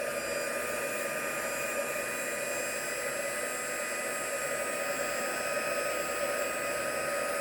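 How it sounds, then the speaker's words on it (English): A heat gun runs steadily at close range, warming embossing powder on card letters; a loud, even rushing blow like a hair dryer holds without pause throughout. "I'm just going to heat that up"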